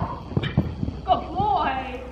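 A horse canters in an arena during jumping practice, hooves thudding in a quick rhythm close by while a rider talks over the footfalls.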